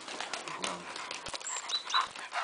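A large Kangal dog pants rapidly and breathily up close, with faint whimpering tones and a bit of rustling.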